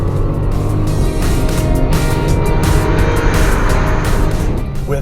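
A 2017 Bentley Continental Supersports, 700 horsepower, accelerates hard at speed, its engine a loud, steady, dense roar with road and tire noise throughout, no talking.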